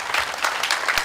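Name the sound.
audience applause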